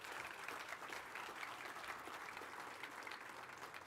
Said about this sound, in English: Please join me in giving all of our speakers and Tammy McLeod a round of applause